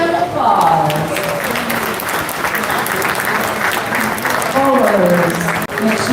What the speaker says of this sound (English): Now let's give these athletes a big round of applause